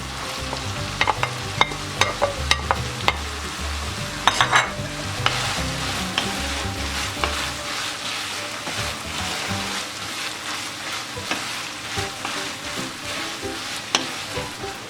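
Onion, garlic, green peppers and red kapya pepper hitting hot oil and being stirred in a pan, with a busy crackling sizzle broken by frequent clinks and scrapes of the spoon, close and steady throughout.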